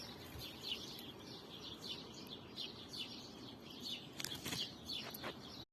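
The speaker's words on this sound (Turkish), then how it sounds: "Kuş sesleri ne kadar güzel." Several birds chirp and twitter in quick, high bursts over a soft outdoor hush, with a few sharper calls near the end.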